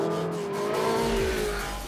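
A Porsche 918 Spyder hybrid hypercar on a racetrack, its engine droning loud and near with a rising, shifting pitch as it accelerates, briefly and without any speech.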